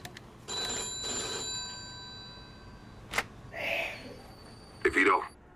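An apartment telephone in the Mafia 2 video game rings in two clear bursts, then a pause, followed by a couple of brief tonal chimes and clunks, moderately loud with no talk over it.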